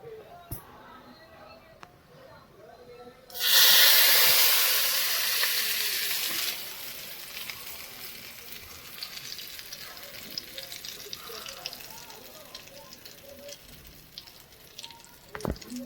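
Hot mustard-seed and asafoetida tempering hits carrot-amla chutney with a sudden loud sizzle that swells for a few seconds, then settles into a softer, steady crackle.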